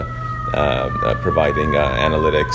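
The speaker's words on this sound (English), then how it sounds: "Sorry for the sirens in the background" A wailing emergency siren sweeps up and down steadily in the city background while someone talks over it.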